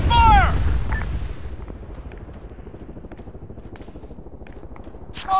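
Arma 3 military shooter combat: a loud close burst of gunfire at the start, followed by a steady rapid rattle of distant shots continuing throughout, with another sharp report at the end.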